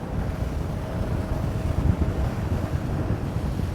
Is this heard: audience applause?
no